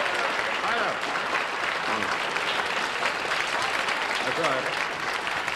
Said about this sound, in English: First time I ever saw a loaf of bread get applause